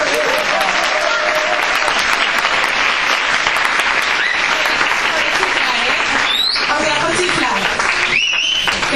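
A large audience at a feminist conference breaks into loud, continuous applause, dense and sustained throughout, with some voices and cheers mixed in near the end.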